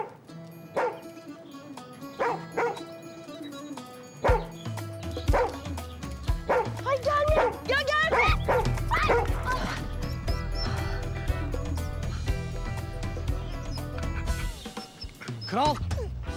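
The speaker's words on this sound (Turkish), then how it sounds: "Al şu köpeğini başımdan." Excited dog barks and high yips ring out repeatedly over a busy music bed, several sharp bursts in the first half, then continuing amid louder music and voices.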